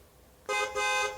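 Car horn sounding in two close blasts, a short honk followed by a longer one, loud and near, with no talk over it.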